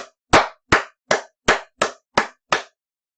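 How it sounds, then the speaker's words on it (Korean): Eight sharp hand claps in a steady, slightly slowing rhythm, offered as encouraging applause in a Korean church worship service; each clap is loud and close with brief silence between, and no voices. "그래서 아주 격려의 박수를 드립니다"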